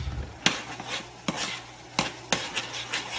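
Cabbage is stir-fried with fish sauce in a hot pan, with a steady sizzle under sharp, spaced clanks of a spatula against the pan.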